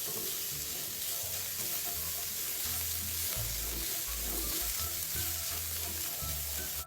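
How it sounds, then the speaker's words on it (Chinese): Sliced shallots and diced shiitake mushrooms stir-fry in hot oil over medium heat, giving a steady, dense sizzle with intermittent scraping stirs close by. "油爆至葱片金黄色后，加入3朵预先切成丁的香菇，"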